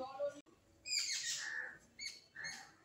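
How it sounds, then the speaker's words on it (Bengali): Two birds screech near a house in a short burst of harsh, rising calls, three or four in quick succession at moderate distance, after a brief muffled voice at the start. "ঠিক এই টাইমে প্রত্যেক দিনই দুটো পাখি চিৎকার করে,"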